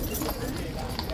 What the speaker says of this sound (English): can definitely hear the clopping, so my money's on the horse coming